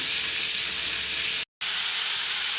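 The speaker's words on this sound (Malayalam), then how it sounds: "അരിഞ്ഞു വെച്ചിരിക്കുന്ന സവാള ചേർത്ത് കൊടുക്കാം രണ്ട് സവാളയാണ് ഇവിടെ എടുത്തിരിക്കുന്നത് ഇത് വഴറ്റി കൊടുക്കാം" Sliced onions, two of them, sauté in coconut oil in a pan, giving a steady, close, broadband sizzle and hiss that cuts out briefly partway through before resuming unchanged.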